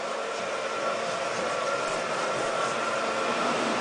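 A floor machine stripping and waxing an office floor gives a steady, unbroken whirring hum with a broad hiss, close and constant throughout.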